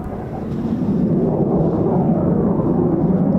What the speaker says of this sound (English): It's the RAF Phantom.